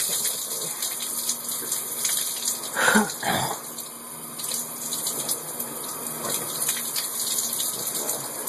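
Water runs steadily from a shower on a boat, a continuous close hiss and splash with small shifts as something passes through the stream.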